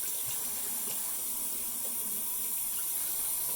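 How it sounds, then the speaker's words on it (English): Hot water from a tap running steadily into a sink while a sponge scrubs, a constant bright hiss with no breaks and no talking. "So I've got some hot water."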